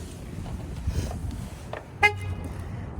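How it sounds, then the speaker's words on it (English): A van's horn gives a single short chirp as it is locked and the alarm is set in a parking lot, heard once mid-clip over low outdoor background noise. "So I'm just locking it"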